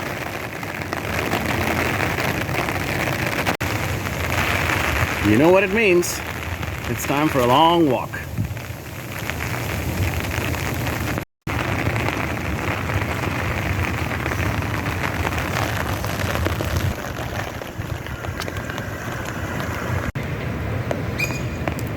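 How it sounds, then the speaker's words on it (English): Heavy tropical storm rain pours down steadily in a desert setting, falling on a pool surface, with a constant broadband wash throughout; a person talks over it and a brief dropout interrupts midway. "Here comes the rain."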